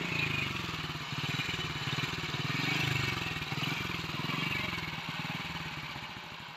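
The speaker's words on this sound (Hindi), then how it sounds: "मोटरसाइकिल वाले बंद ना करें" A motorcycle engine runs at idle close by, its steady pulsing putter holding an even rhythm with slight swells in level over several seconds.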